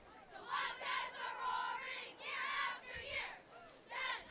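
Cheer team hollering and shouting at a football game, repeated bursts of high, excited group yelling from a crowd, swelling and fading in waves over about four seconds.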